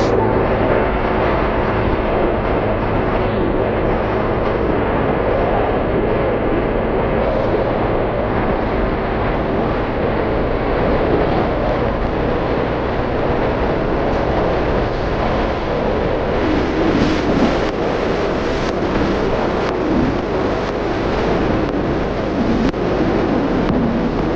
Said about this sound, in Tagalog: subukan na natin to i-top speed dito yung ating motor sa kahabaan ng highway